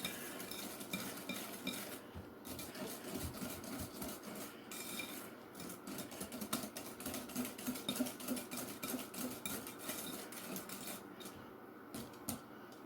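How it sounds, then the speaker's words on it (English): A utensil stirs melted butter into brownie batter in a bowl, with soft scraping and clinking strokes at an uneven pace, close and fairly quiet. "toss in your 1/2 cup of melted butter. We're going to mix that around a little bit"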